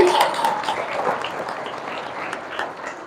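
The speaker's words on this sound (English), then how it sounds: "Everyone give a huge round of applause for ma'am." Audience applause at a school speech competition, moderately loud and steady for a few seconds and slowly tapering off.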